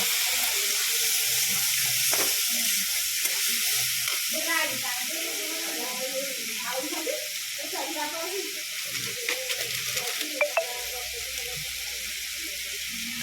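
Water is poured into a pan of Yippee instant noodles as they cook, giving a running, splashing sound beneath a person talking, with a few sharp clinks near the end.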